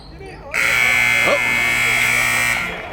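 A loud, sustained electronic buzzer blares for about two seconds at halftime of a high school boys' basketball game, cutting in abruptly over crowd noise and a commentator's voice.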